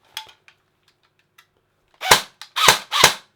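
An airsoft replica gun with a weak battery fires a couple of faint single shots, then three loud, sharp full-auto bursts in quick succession, close by and with no talk.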